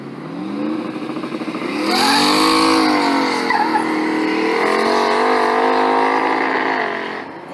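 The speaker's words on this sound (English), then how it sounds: "Will a burnout help it hook on this track?" A turbo LS Fox body car does a burnout at a drag track, its engine roaring loud and close while the tires squeal continuously for several seconds before easing off.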